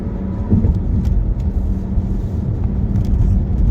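Steady low road rumble of a car being driven, a continuous engine and tire drone filling the whole stretch at even, fairly loud level with no talk over it.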